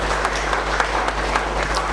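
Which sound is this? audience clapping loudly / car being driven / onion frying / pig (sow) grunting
audience clapping loudly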